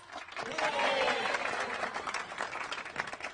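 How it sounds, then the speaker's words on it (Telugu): Clapping and applause from a group, in a scene from the film Aarya 2, rise into a dense sustained burst that gradually thins out, with voices mixed in. "క్లాప్స్."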